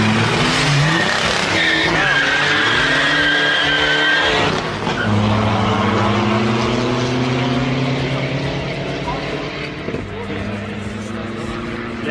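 A turbocharged VW Polo 1.9 TDI is driven hard, its engine roaring loud and close throughout with tires squealing and skidding, while voices talk over the noise.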